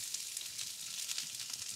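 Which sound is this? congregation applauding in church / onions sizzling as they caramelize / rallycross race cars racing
onions sizzling as they caramelize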